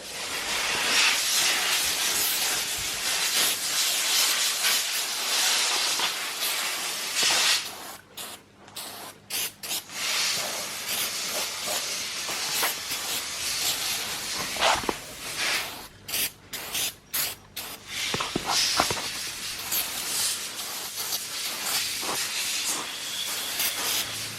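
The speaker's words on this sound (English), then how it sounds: "I'm using brake cleaner because it comes off." Brake cleaner hisses from an aerosol can while a custom roof liner is being made for a Nissan Skyline R32 drift car. Long, close, continuous spray bursts are broken by a few brief stops, with no voices.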